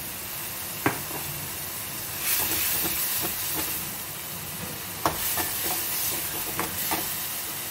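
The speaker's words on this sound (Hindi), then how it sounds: "अब मैं इसके अंदर डालूंगी थोड़ा सा ये सौंप इसकी महक अच्छी आएगी" Fennel seeds sizzle in a hot cooking pan with a soft, steady hiss, broken by a few light clicks and scrapes of stirring, quiet and without voices.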